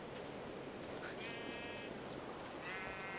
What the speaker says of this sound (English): I thought it was all fluffy sheep up here